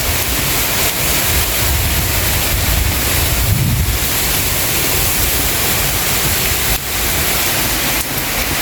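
Strong, continuous wind roaring and buffeting close to the microphone, a dense rushing noise with occasional gusts.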